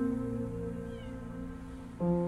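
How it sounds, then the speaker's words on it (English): A cat meows in the cat simulator game Copy Cat, a sustained tonal call that shifts pitch near the end, heard over a steady background hum with no speech. "this one will meow at absolutely anything that moves"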